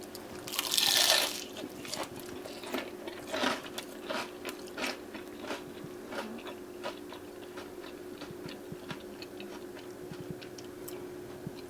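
A southern fried pork chop with a golden crust is bitten into, followed by a run of crisp, close crunches and steady chewing with no talking.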